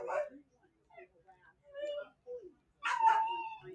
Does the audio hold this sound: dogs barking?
yes